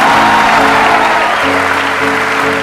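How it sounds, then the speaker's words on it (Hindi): An audience breaks into loud, continuous clapping throughout at a business event, a dense steady wash of hands. "बजाओ ताली"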